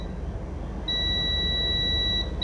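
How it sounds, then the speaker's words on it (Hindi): A digital multimeter in continuity mode gives a single sustained, steady high-pitched beep lasting about a second, while its probes test capacitor C417 on a Redmi 9A phone board, over a quiet background hum. "ये देखिए ये साइड बीप कर रहा है और ऑपोजिट साइड भी इसका बीप कर रहा है।"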